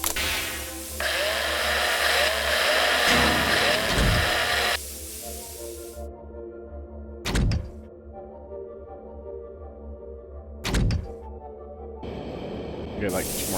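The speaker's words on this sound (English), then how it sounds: "as I drill into them" A drilling tool whines steadily as it bores into remains to extract material in the Breathedge space survival game, with a high buzzing tone for several seconds, then quieter hum broken by sharp bursts.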